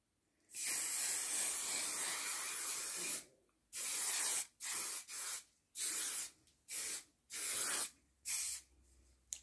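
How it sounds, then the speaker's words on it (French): Aerosol varnish sprayed from a can onto an acrylic painting on canvas, starting with one long steady hiss and then breaking into a run of short bursts, close and loud with no voices. "je vais poser la deuxième couche de vernis car une seule couche ne suffit pas"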